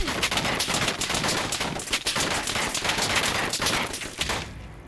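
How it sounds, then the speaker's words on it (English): Dense, continuous rapid turret gunfire in Fallout 4 roars nonstop for several seconds, loud and close, then cuts off abruptly at the end. "The turret is definitely loud."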